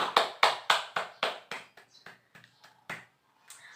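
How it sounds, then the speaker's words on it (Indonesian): A few students clapping in a classroom, sharp, evenly spaced claps that thin out and grow quieter, scattered claps trailing at the end. "Kita berikan tepuk tangan terlebih dahulu ya."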